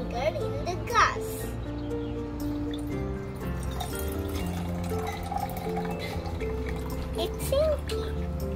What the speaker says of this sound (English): I'm going to pour the vinegar in the gas.